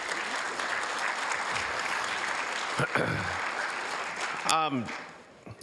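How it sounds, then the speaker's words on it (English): Applause from an audience at a volunteer awards ceremony, honoring award recipients: steady dense clapping fills most of the stretch, with a voice and a brief whistle-like tone near the end as it fades. "Ladies and gentlemen, let's give them a big round of applause."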